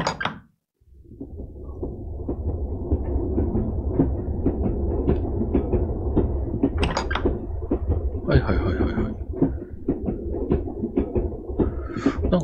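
A train in a hololive horror video game rumbles along in a low, steady rolling drone with scattered rattles and clicks. It starts after a short silence and runs continuously at moderate loudness.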